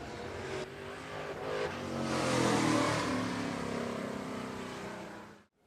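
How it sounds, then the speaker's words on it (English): Hobby stock race cars on a parade lap at Shelby County Speedway, a rising then fading engine drone as the pack rolls past at moderate distance, cutting off abruptly at the end. "As they come out turn 4 for their parade lap here at the Shelby County Speedway"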